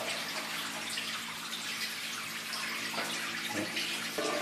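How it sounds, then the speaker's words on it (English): Water rushes steadily through a water-powered lift in England, a continuous close splashing flow like a tap filling a tub, with a few brief knocks toward the end. "As you can see, from the running water, this is a water powered lift,"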